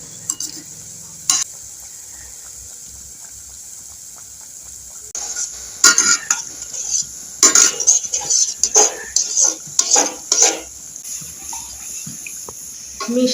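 Small flour sweets fry in hot oil with a steady soft sizzle, while a utensil stirs and clinks against the pan in bursts that grow busier toward the end.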